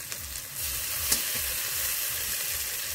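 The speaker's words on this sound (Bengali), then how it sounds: "এবার দিয়ে দেব আদা বাটা, রসুন বাটা। আদা রসুন দিয়ে কিছুক্ষণ ভেজে নেব।" Ginger and garlic paste with green chili paste frying for a spinach and prawn dish, heard as a steady, close, hissing sizzle with a faint knock near the start and a brief stir partway through, with no talk.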